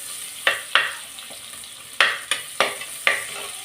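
Onions frying in plenty of oil for a mango fish kulambu, a soft continuous sizzle broken by several sharp scraping stirs of a spoon at irregular intervals, close up and moderately quiet.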